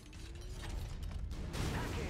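A mech's pickup mechanism in MechWarrior 5 whirs and clanks briefly, with a mechanical grinding that swells louder toward the end.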